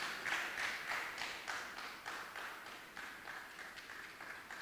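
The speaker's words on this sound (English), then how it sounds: "I think he deserves more than a round of applause" Faint, distant audience applause for a guest speaker at a memorial lecture, rippling in uneven bursts that slowly fade.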